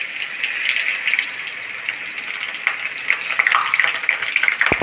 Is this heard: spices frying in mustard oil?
yes